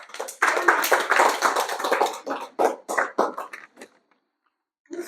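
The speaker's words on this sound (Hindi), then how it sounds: "इस बहन के लिए दो तालियां बजा दो।" A small group of students in a coaching class claps for a classmate, a close burst of quick scattered claps that thins into a few separate claps before fading to silence.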